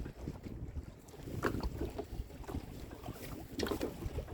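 A small boat bucks through choppy lake water on a windy day, with irregular hull thumps and sloshing under gusty wind buffeting the microphone, fairly faint overall.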